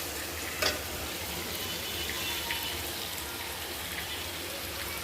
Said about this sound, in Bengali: এখন হচ্ছে আমি একটু গরম পানি করে নিলাম চুলায়, তো এটা এখন হচ্ছে এখানে দিয়ে দিব